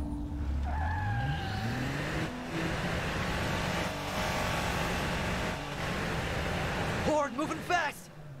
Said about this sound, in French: Ça fait un bruit bizarre la voiture